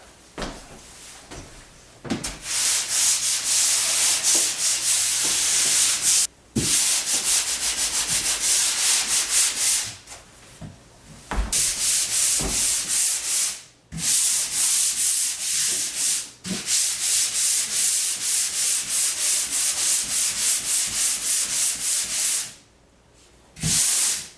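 Power sander running steadily on a fireplace hearth installation, a loud continuous whir broken by several brief pauses where the tool stops and restarts, with no talking.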